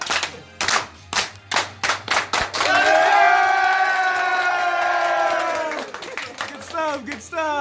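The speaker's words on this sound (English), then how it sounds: "Can we get a slow clap" A crowd claps slowly in evenly spaced beats that quicken a little, then breaks into loud, sustained cheering and shouting voices that fade toward the end, with a few claps returning at the close.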